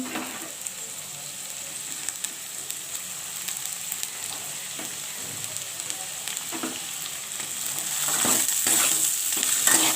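Dried red chilies frying in a pan with cauliflower, potato and egg, a continuous crackling sizzle under scraping and stirring, which swells louder toward the end as the heat is raised, close and without speech.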